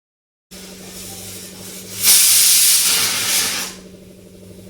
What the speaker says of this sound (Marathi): वर गॅसवर मी एका बाजूला भाताचा कुकर लावलेला आहे